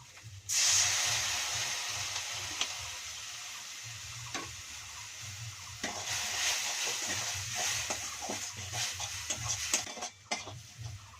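Water poured into a hot pan of egg and fried eggplant sets off a sudden loud hiss that settles into a steady steaming sizzle, close by, with occasional scrapes and clinks of a spatula against the pan.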